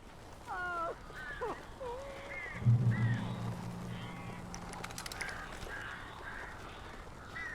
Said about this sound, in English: These birds are weird.